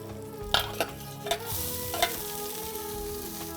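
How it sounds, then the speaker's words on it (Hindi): Onion frying in a pan with urad and chana dal, a steady low sizzle broken by several distinct spoon scrapes and knocks near the start, close by with no voices. "अब हम इसमें डाल देंगे अनियन।"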